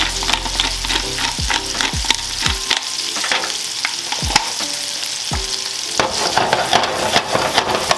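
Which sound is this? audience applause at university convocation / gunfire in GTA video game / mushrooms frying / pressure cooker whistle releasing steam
mushrooms frying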